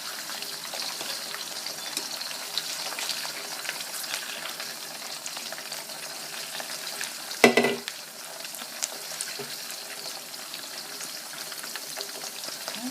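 Pork pieces for sweet and sour pork sizzle steadily in a frying pan, a constant close crackle, with a brief clatter of stirring or a utensil midway.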